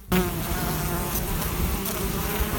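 Honeybees of a local striped breed droning around hives at an apiary of about sixty hives in Bashkortostan, a loud, dense, continuous buzz close by with no talking.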